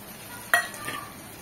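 Potato and cauliflower hit a hot pan and are stirred for a dhaba-style cauliflower bhaji, giving one sharp scrape-and-sizzle burst that quickly fades into a soft frying hiss. No one speaks.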